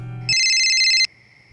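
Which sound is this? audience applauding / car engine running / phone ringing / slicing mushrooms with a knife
phone ringing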